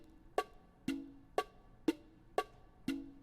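A basic bachata percussion pattern of bongo strokes, each paired with a güira hit, six evenly spaced sharp hits in a steady rhythm, clean and close with no voices.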